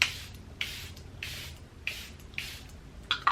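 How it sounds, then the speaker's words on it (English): Short hissing spritzes from a Charlotte Tilbury Airbrush makeup setting spray bottle, about five or six evenly spaced bursts, close by with no talking. "I'm going in with the Charlotte Tilbury Airbrush Setting Spray."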